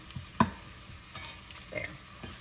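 Bacon fries in a pan, a soft steady sizzle with a few light scrapes and stirring knocks, close and fairly quiet.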